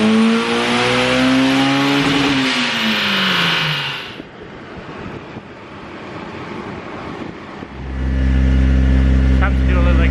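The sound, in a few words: Honda S2000 engine revving with titanium exhaust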